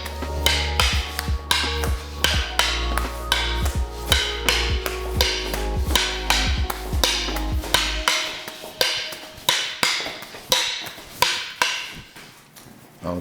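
Single sticks clack together in a 10-count Sinawali drill, a fast, steady chain of sharp wooden strikes close up that keeps an even rhythm, over a low hum that fades partway through.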